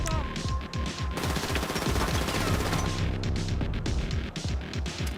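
Gunfire in GTA 5 Online during a boss fight, heavy sustained automatic fire with overlapping bursts and booming impacts, loud and continuous for over five seconds with only brief dips.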